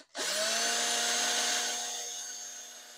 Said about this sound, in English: I'm going to drill my hole right there where that mark's at